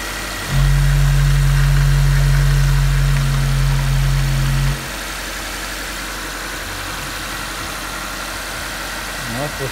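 A Mitsubishi Space Star 1.3 4G13 fuel-injected engine with a five-speed gearbox runs with a steady, even drone for about four seconds, then cuts off into quieter background noise.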